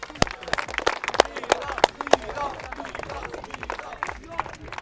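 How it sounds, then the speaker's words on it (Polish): Scattered applause and claps from a small crowd mixed with chatter and babble, fairly close and uneven. "wielkie brawa dla niego!"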